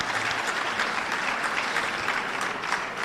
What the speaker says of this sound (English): you can applaud that, because that is true.